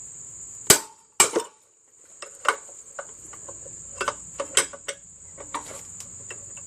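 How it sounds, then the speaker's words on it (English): Metal-on-metal hammer strikes on the flywheel of a John Deere LA105 lawn tractor's Briggs & Stratton engine, a dozen or so sharp irregular taps, two loud early blows then lighter ones, close and without talk. "Get a hammer"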